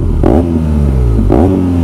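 A motorcycle engine revs loudly while being ridden, two strong throttle blips rising and falling over a constant close engine drone, with no talk.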